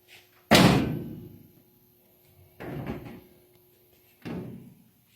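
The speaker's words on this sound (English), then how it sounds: "Let me open this door again." A car door slams shut with a loud, sharp thud, followed by two softer closing thumps a couple of seconds apart, in a quiet garage during rocker panel welding repair work.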